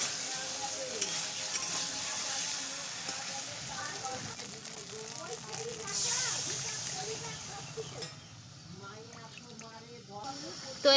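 Water poured into a pan of sizzling potato curry gravy whose spices have released their oil, a loud continuous hiss and bubbling that settles down toward the end, with a voice speaking over it.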